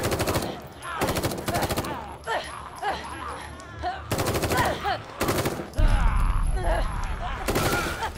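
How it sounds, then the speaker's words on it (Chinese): Bursts of rapid gunfire from the horror video game The Evil Within 2, loud volleys separated by stretches where someone talks excitedly over game sounds. "我真的开枪射他了？"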